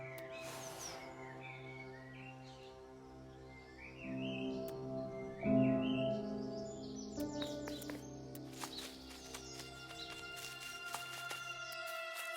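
Soft game birdsong from The Last Campfire: scattered chirps and short tweets rise over a steady tonal music bed, with brighter clustered calls late in the scene; no one speaks.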